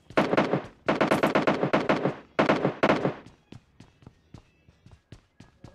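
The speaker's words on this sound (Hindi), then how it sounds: "और अब गन साउंड सुनो," Automatic gunfire in the PUBG Mobile Lite game: three loud sustained bursts of rapid shots, followed by a series of sparse, sharper single shots spaced out and fading, with no talk.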